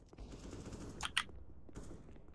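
Gunfire in the video game Counter-Strike: Global Offensive, two sharp, quick shots in close succession over quiet background game noise, fairly faint overall.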